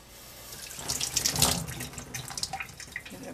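Tap water runs steadily over a bar of Sunlight soap at close range, splashing and gurgling with irregular surges as the soap is wetted.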